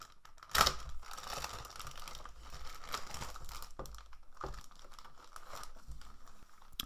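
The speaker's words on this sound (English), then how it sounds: "let's rip it open and see what's inside" A sealed plastic bag holding a toy blind box is ripped open, with one sharp tearing crackle near the start, followed by quiet, steady crinkling and handling of the plastic.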